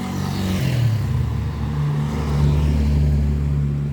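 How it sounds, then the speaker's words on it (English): Cars pass along a residential road early in the day, one engine drone dropping in pitch as it goes by and another steady vehicle hum swelling close up afterward, with no voices. "Got some traffic, early enough that there's some traffic."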